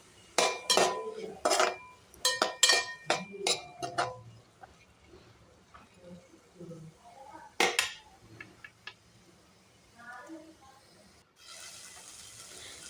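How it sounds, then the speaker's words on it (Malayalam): A bread mixture is sautéed in a pan, with rapid metallic clinks and scrapes of a spoon against the pan up front, then quieter stirring and a soft sizzle toward the end. "നമുക്കിതുപോലെ വഴറ്റിയെടുത്താൽ മതിയേ"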